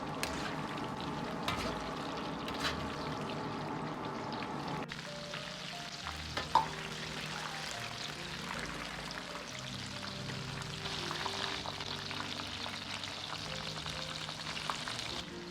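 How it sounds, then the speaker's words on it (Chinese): Battered long beans deep-fry in oil over medium heat, a continuous bubbling sizzle with a tonal background and a couple of brief clinks, softening and then rising again partway through. "继续保持中火炸至1分钟，把豆角炸熟炸透"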